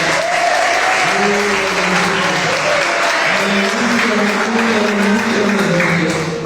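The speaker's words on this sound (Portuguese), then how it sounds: "Você pode aplaudir o rei agora." Church congregation applauds loudly and continuously during a worship service, with sustained voice or music tones running underneath the clapping.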